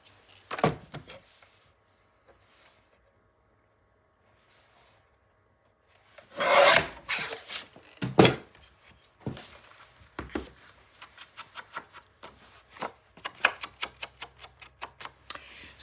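A paper trimmer cutting scored craft paper for a 9 x 9 album panel, heard as sparse, quiet scraping rasps and taps. A few sharper slides come mid-way, then a run of light clicks, with silent gaps between them.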